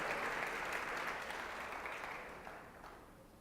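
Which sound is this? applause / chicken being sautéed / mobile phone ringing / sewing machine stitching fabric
applause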